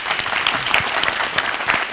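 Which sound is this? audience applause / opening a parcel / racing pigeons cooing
audience applause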